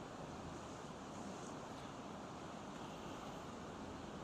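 Lake Superior waves washing against the side of a 1000-foot ship heading out with a tug escort: a steady, faint broadband rush of water and wind, continuous and unbroken, with no voices.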